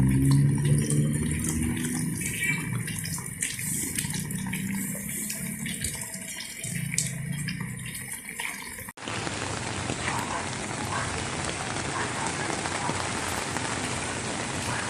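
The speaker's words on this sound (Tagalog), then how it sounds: "Buti yung ulan, pabugso-bugso lang." Intermittent rain falling on surfaces, a dense steady patter and hiss that swells and eases, then switches abruptly to a rougher, broader downpour roar partway through, with no talk.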